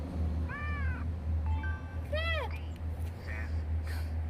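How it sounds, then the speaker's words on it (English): A cat meows in a few drawn-out, rising-and-falling calls with short pauses between them, moderately close, over a steady low hum and faint background voices. "Cat."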